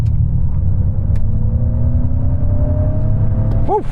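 A Ford F-150 Lightning electric pickup truck launches from a standstill at full throttle, its motor whine rising steadily over a low rumble of road and tire noise, loud and close, until a brief sweeping tone near the end.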